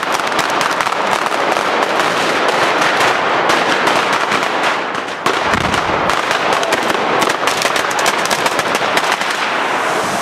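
A long, loud string of firecrackers bangs and crackles in rapid, irregular bursts, nearly continuous, with a brief lull midway before the popping resumes.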